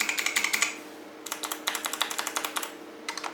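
Quick bursts of typing on a KBParadise V60 keyboard with Matias Silent Linear switches and ABS keycaps, producing muted, close-up clicks in rapid runs separated by short pauses, with no voices.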